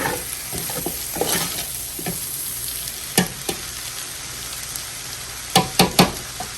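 Beef fried rice stir-fried in a pan, a steady close sizzle with a spatula scraping and tapping against the metal in short bursts as the rice is turned and folded.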